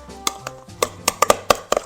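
A meat patty being mixed into a vegetable mix for a Chinese New Year recipe, with a run of close, soft tapping and knocking sounds in an irregular rhythm, and a faint tone humming underneath.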